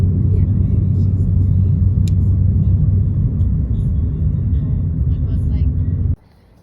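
Car driving along an Icelandic road on a cold evening, a loud steady low rumble of engine and road noise from inside the cabin that cuts off abruptly at the end.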